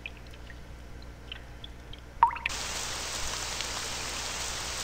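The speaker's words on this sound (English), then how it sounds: "The rain doesn't seem to show any signs of stopping, either." Steady rain falls in a forest in a horror video game, with a soft quiet patch before it rises to a constant, dense hiss of rainfall that continues to the end.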